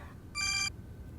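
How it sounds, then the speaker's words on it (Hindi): A telephone rings with a short electronic ringtone burst, a bright steady tone lasting about a third of a second over a quiet background, with no talk. "लो, नाम लिया और बाबा का फोन आ गया।"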